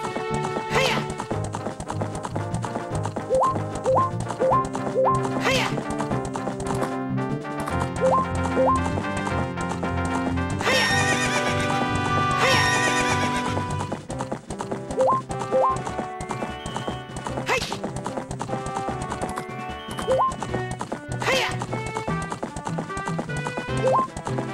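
In the game Zelda: Ocarina of Time Master Quest on GameCube, a horse whinnies and its hooves clip-clop rhythmically over bright in-game music and effects.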